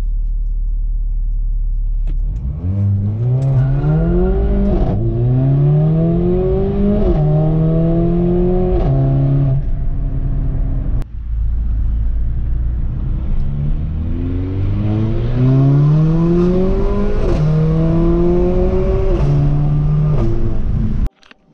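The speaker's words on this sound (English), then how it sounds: "I'll show you guys a soft launch here, what that looks like with the TCU tune" Mercedes GLA45 AMG with a TCU tune doing a soft launch: a loud, close engine rev climbing through quick upshifts, settling, then a second hard pull with rising revs and shift steps before cutting off.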